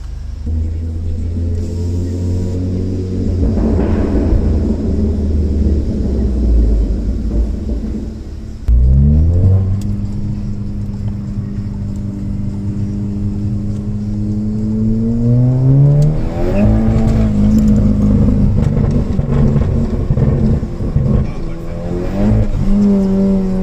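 A 400-horsepower stage 2 Cupra Leon with a turbo engine accelerates hard, its exhaust note climbing through the gears with a sharp drop at a shift, loud and close from inside the cabin, with people talking over it.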